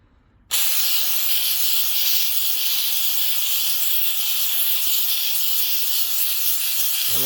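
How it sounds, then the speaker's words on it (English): Steady, loud hiss of a steamer putting out steam to melt coolant residue, starting abruptly after a half-second of quiet and continuing unbroken to the end. "it puts out steam, I guess, as advertised."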